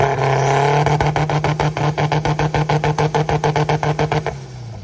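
A pink Mazda RX-7 sitting on two-step launch control holds a loud, steady engine note, then breaks into rapid, evenly spaced staccato pops and bangs for several seconds before cutting off.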